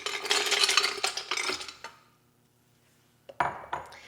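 Ice cubes for an orange milkshake clatter and rattle busily into a container, loud and close for about two seconds, then silence before a few more sharp clinks.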